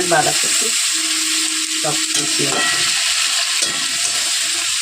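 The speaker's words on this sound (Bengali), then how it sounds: "তরকারিগুলো নাড়া করবো পেঁয়াজ দিয়ে" Onion greens curry cooked with onions and fish oil crackles loudly in a pan as it is stirred, a dense steady frying hiss with intermittent scraping and clatter up close, no voices.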